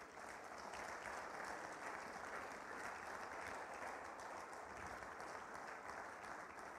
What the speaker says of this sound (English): I think that deserves another applause.